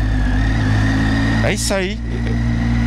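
A motorcycle engine with a faulty clutch runs steadily and loudly throughout, a continuous mid-pitched drone, while someone speaks briefly over it near the middle.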